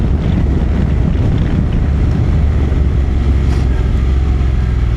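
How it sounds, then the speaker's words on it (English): Strong wind roars across the microphone of a Honda NC750X motorcycle on the move, a loud, continuous buffeting rush with no let-up and no talk. "It's not cold, by the way, just thought I'd let you know, but it's just windy,"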